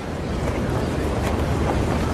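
Strong wind buffets the air almost 800 feet up on an unfinished New York City skyscraper beside a construction crane, a steady, loud, broadband roar with no let-up and no voices.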